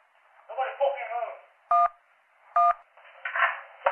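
Phone keypad button tones in a 911 operator video game, two distinct short electronic beeps spaced apart, set between stretches of a voice talking over a phone line.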